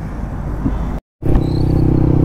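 Yamaha MT-15 V2 motorcycle fitted with an Akrapovic full-system exhaust, idling and revving with a loud, steady close-up rumble. The sound cuts out briefly near the middle, then resumes.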